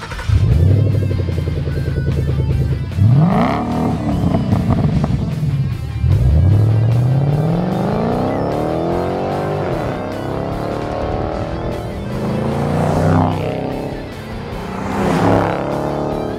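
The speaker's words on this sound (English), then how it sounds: "Let's hear the first, Hush Power's 3-inch AxleBack system." A 2011 Ford Mustang 5.0 fitted with a Hush Power 3-inch axle-back exhaust revs repeatedly, the V8 rising and falling in loud sweeping pulls, close and steady without talk.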